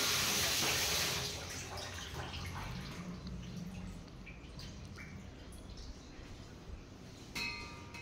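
A tap runs steadily as something is washed to get the soil off. The flow is loud for the first second, then settles into a softer, continuous splash with faint drips.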